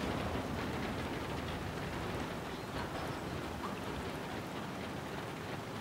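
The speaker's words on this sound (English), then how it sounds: "the rain hits the metal plating over here of the roof" Rain drums on metal roof plating in the city-building game Anno 1800, a dense, steady patter that holds constant and fills the whole scene without any voices.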